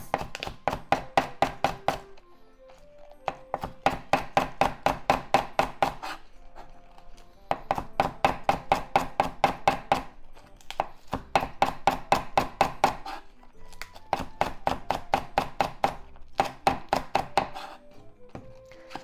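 A knife slices through food on a cutting board for a spicy pork and tofu stir fry, landing in quick even runs of crisp, close chops separated by short pauses.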